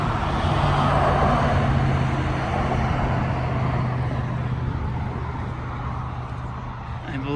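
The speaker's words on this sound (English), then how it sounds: "We're right next to a busy highway right here." Steady roar of heavy traffic on a busy highway right beside a closed shop on a Saturday, a continuous broadband wash of cars and trucks with a low engine drone, loud and close throughout with no gaps.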